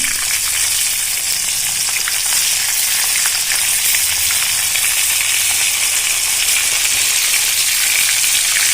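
Steady, loud sizzling of fish frying in hot oil, a continuous crackling hiss with fine popping throughout.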